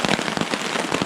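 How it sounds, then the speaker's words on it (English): Heavy rain pounds a tarp at a lake, a dense, loud, continuous patter of drops close by. "The one good thing, if it rains this hard, I won't have to listen to the frogs tonight."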